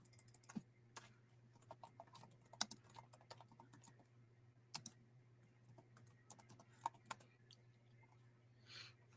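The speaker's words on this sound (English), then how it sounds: "Let me just type it in." Fingers type on a computer keyboard in quick, uneven bursts of soft clicks and taps over a low steady hum, heard close and alone.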